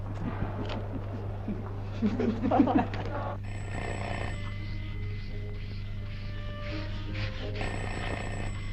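A telephone rings indoors with a repeating electronic trill over a steady low hum, following a brief stretch of quiet voices.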